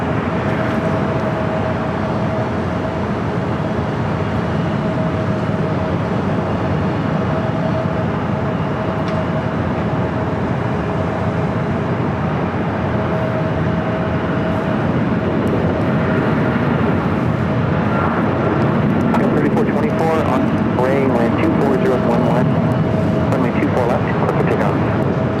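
An Airbus A320neo airliner passes at LAX as a loud, continuous engine roar with a steady whine, swelling toward the end, while people talk over it.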